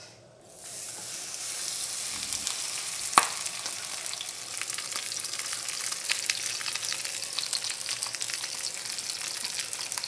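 Cabbage pancake frying in oil in a pan, a steady close sizzle and crackle that holds for the whole stretch after a quiet start, with one sharp pop partway through and no talking.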